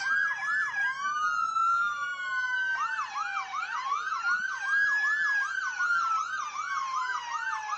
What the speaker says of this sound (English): Once you hear those lights and sirens